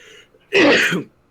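A single sneeze bursts out close and loud from one player during an online tabletop role-playing game session, a sharp half-second blast with no talk around it.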